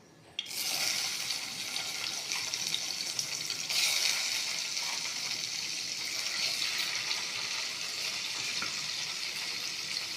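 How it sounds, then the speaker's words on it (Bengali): Cubed paneer dropped into hot oil for a vegetarian paneer dish sets off a sudden loud, steady sizzle that swells briefly as more pieces go in, then holds close and even. "কিউব করা পনিরগুলো আস্তে আস্তে দিয়ে দেবো তেলের মধ্যে।"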